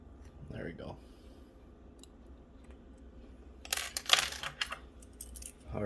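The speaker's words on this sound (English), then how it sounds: "I do have the keys for this lock" Metal keys for an old Corbin electric switch lock jangle and clink in a short, close burst of bright rattles, with a voice speaking softly earlier.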